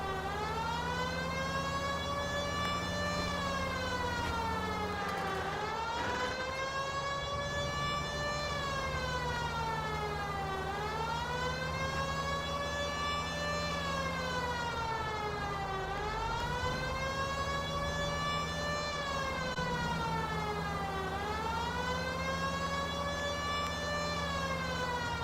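Police siren from the video game L.A. Noire wails in steady rising-and-falling sweeps, loud and close throughout, with engine rumble underneath and no talking.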